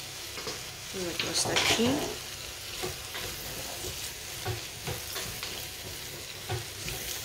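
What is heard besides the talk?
stirring and frying vegetables for vegetable soup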